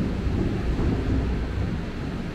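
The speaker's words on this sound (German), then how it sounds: "Hast du den Donner gesehen?" Thunder rumbles low and heavy during a torrential rainstorm in Bangkok, a sustained deep roll blended with the dense wash of pouring rain, loud and continuous throughout.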